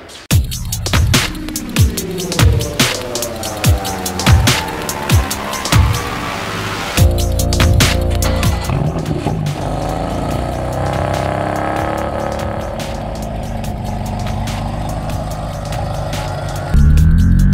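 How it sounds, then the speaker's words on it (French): A tuned BMW M4 CS on a road test drive, engine revving hard through repeated gear changes with loud rising and falling pulls, then settling into a steady cruising drone with wind and road noise. "Alors un petit essai routier épatant pour essayer les performances que nous avons apportées à la voiture"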